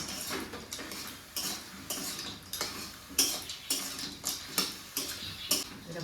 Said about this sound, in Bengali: এবার নাড়াচাড়া করি ভালো করে।